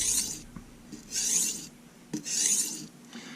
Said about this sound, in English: So now we are talking ounces of pressure on the blade going into the stone.